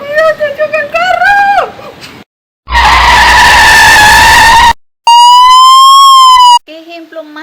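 Dramatized car scene with a skid sound effect mixed with voices and a wailing siren; a long broadband screech fills the middle, followed by a steady rising-and-falling siren tone, loud and close, with short vocal bursts at start and end.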